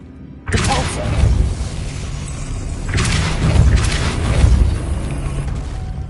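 In a Harry Potter game, a Depulso spell blast hits suddenly and loud, its booming wash holding steady and swelling again midway, full of rumbling impact noise.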